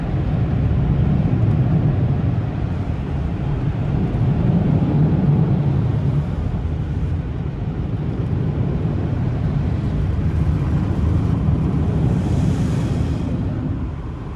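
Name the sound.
leaf blowers running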